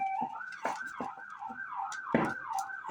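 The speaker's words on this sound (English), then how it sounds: "you'll probably hear a lot of sirens going on." Sirens wail outside in rising and falling sweeps, a steady cycling tone at moderate distance, with no talking.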